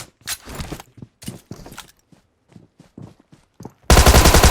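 Gunfire in the PUBG Mobile game: a scattered series of sharp shots in short, uneven bursts, ending in a loud, rapid automatic volley close up, with no talking.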